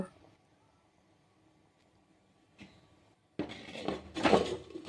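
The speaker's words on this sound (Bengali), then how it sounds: "এবার আমি ঢাকনাটা দিয়ে দিলাম" A metal lid is set onto a handi cooking pot of mutton: quiet kitchen stillness, then a soft clink, followed by a louder burst of clattering metal and utensil knocks near the end.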